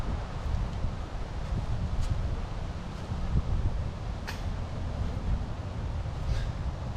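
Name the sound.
wind blowing through the woods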